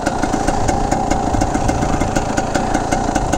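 A 1982 Yamaha YZ250 motorcycle engine runs steadily and loudly up close, a continuous buzzing two-stroke drone with a rapid pulsing rhythm and no pauses.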